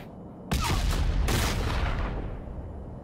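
A nuke detonates in a video game with a sudden loud boom, then a rumbling roar that swells once more before slowly fading, with no talking over it.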